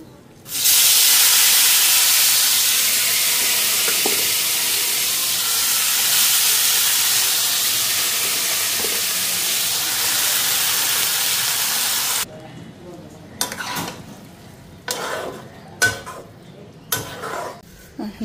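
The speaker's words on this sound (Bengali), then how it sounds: "এখন এগুলো বাঁধাকপিগুলি দিয়ে দিই।" Cabbage tipped into a hot pan gives a loud, continuous sizzle for several seconds, then stops abruptly, followed by scattered scraping and clinking of a utensil stirring against the pan.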